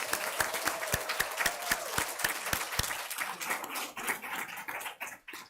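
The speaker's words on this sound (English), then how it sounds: "So one more round of applause for Liberty." Applause from a school board meeting audience honoring Liberty school: a few loud, sharp individual claps up front, then a fuller, denser round of clapping that thins and fades out.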